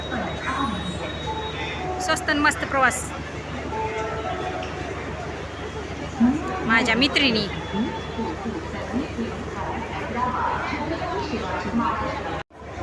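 A busy railway platform with a crowd chattering, trains rumbling and squealing, and people talking nearby throughout.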